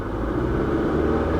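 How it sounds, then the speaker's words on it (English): A Ford Mustang engine idles with a low, steady rumble, close and continuous, and a slight irregular noise sits within the running sound, with no voices. "There is a little noise in the engine,"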